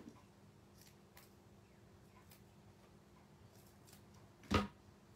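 Scissors snip once through a piece of foam tape during scrapbook page making, a single short crisp cut near the end after quiet room tone.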